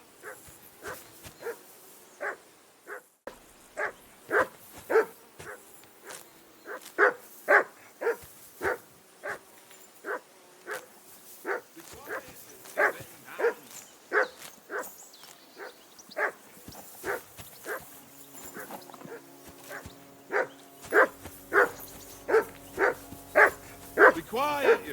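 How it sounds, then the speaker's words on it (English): A dog in the video game Kingdom Come: Deliverance 2 barks repeatedly in a steady rhythm, sharp distinct woofs spaced about a second apart over a quiet background, with a low hum joining near the end. "That barking was a pain in the ass."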